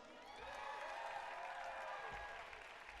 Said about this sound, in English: can I get a big round of applause for Bandit Lights?